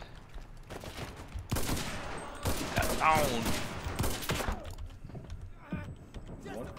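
Bursts of rapid automatic gunfire, including an M3 submachine gun, crackle in the game Enlisted, dense volleys mixed with shouting voices and shots at varying distances.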